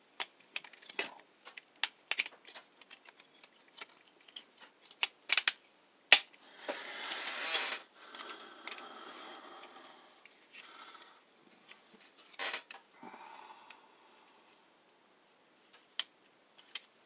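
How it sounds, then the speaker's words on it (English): A Transformers Siege Skywarp figure being transformed gives sparse, close plastic clicks and snaps, with a longer scraping rustle near the middle, then quieter fiddling and a last click. "And now I'm folding out the nose cone. Splitting the nose cone."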